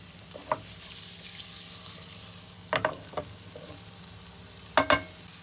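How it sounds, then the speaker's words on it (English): Pieces of white fish fry in melted butter in a pan, giving a steady close sizzle with a few sharp crackles and pops scattered through it. "after the butter has melted, we're going to add our white fish that of course we've cut into smaller pieces"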